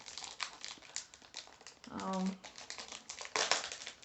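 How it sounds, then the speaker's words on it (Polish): Plastic foil is torn and crinkled off a perfume box close to the microphone in quick, uneven crackling bursts, with a voice murmuring briefly in the middle. "No i rozrywamy folię."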